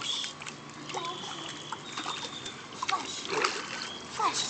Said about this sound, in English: You want to come out of there and splash?